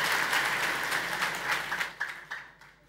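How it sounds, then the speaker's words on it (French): A congregation at a church service in Algeria applauds in a steady wash of clapping that holds for about two seconds and then thins into scattered claps and fades away. "on peut applaudir plus fort le Seigneur."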